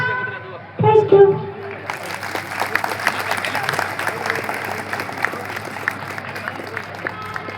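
Audience applause at a Hindu conference in Hubballi for performer Avanish Nilgund: after a brief louder burst near the start, dense steady clapping fills the hall and continues evenly to the end.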